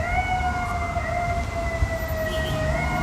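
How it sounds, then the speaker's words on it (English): A siren wails steadily in the distance, its pitch sliding slowly over a low rumble of traffic, with no voices. "That's such like an ominous sounding siren."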